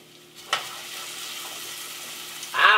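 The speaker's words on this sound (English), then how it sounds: "Always preheat your oil, otherwise your potatoes are going to soak up the oil" Potatoes drop into preheated oil with a sharp pop, then fry in a close, continuous hiss that stays level for about two seconds before a brief tonal burst cuts in at the end.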